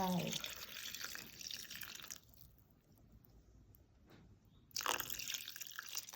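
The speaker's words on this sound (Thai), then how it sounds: "แล้วก็จะเทน้ำซุปให้ลงไป" Soup broth is poured into chicken larb, giving a brief splashing liquid pour at the start and again near the end, with quieter stretches between and no talking.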